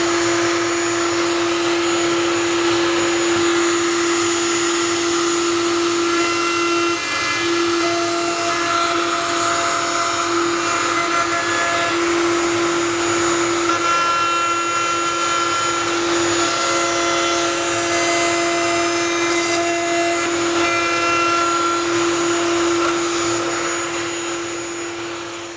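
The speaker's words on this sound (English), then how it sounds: "So we're gonna router it, and we're using a radio 5mm." A router runs continuously with a steady whine, edging wood with a 5mm radius bit. The loud, constant motor drone holds for the whole stretch, with no voices over it.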